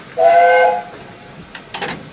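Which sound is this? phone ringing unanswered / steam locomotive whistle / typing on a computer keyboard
steam locomotive whistle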